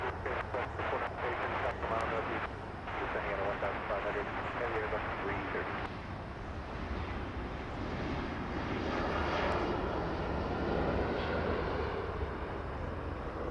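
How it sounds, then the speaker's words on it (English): A Boeing 787 Dreamliner taking off for Tokyo Haneda at Los Angeles: a sustained, powerful engine roar that swells and stays loud throughout, with a voice talking over it. "There we go, Dreamliner out of here."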